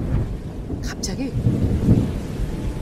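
Thunder rumbles low and heavy over steady rain, a dull rolling crack in the middle, while a voice speaks briefly over it.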